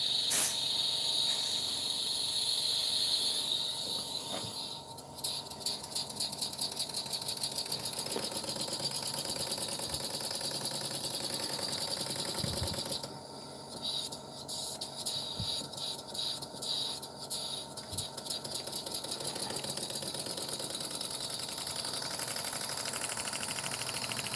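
A small reversible slip-eccentric model engine runs steadily on compressed air, giving a continuous fast buzzing chatter with a dense rapid beat that shifts slightly in pitch partway through and stays fairly loud and close the whole time.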